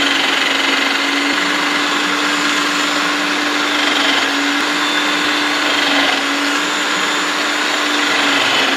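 A motorised kitchen gadget grating beetroot runs steadily and loudly with a constant whine and a mechanical drone, alone with no talking.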